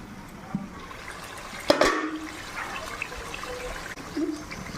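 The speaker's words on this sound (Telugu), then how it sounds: "పులుసు అయితే వేస్తున్నానండి." Tamarind gravy is poured into a pot of Nellore-style fish curry, a short gush of liquid followed by soft trickling and bubbling, fairly quiet and close.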